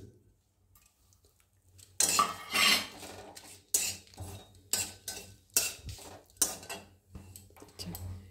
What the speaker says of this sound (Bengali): এখন আমি কড়াইতে দিলাম শুকনো লঙ্কা আর একটু জিরে ফোড়ন, বিনা তেলে